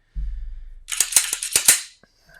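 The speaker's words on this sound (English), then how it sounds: "let me drop the mag," A Glock 19 pistol with an aftermarket Zev upper and trigger, a Trijicon RMR sight fitted, having its magazine dropped and being unloaded: a low thud followed by a cluster of sharp metallic clacks and slide rattles, close and clear.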